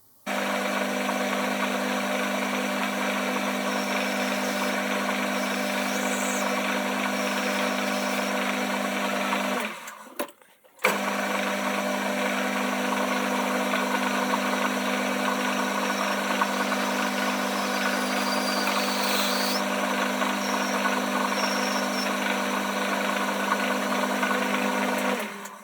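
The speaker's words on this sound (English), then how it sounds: "all I'll do now is put a chamfer on the front of that hole." A machine tool chamfers the front of a hole in a part, giving a steady loud mechanical hum with a strong low tone and a constant high whine, pausing briefly near the midpoint before resuming.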